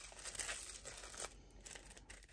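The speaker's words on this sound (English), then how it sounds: "Just give it a little crumple" Fabric pattern pieces crumpled by hand, a soft continuous crinkling and rustling that swells and eases over a couple of seconds, close and fairly quiet.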